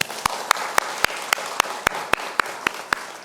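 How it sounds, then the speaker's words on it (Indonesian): A church congregation at an evening worship service claps in a steady, regular rhythm over a dense wash of applause, each sharp beat evenly spaced and fairly close. "Kayak kita bertepuk tangan dulu ya."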